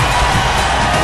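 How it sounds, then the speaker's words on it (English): A dense, loud roar from a wrestling crowd standing and cheering in the WWE No Mercy video game, during a Cesaro versus Daniel Bryan match. The cheering fills the whole second steadily, with no commentary over it. "Listen to the fans. They are standing and cheering."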